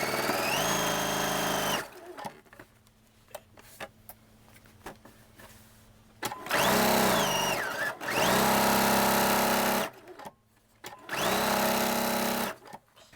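A sewing machine stitches quilt sashing seams in several bursts of whirring motor noise, speeding up and slowing between runs, separated by quiet pauses with faint handling sounds.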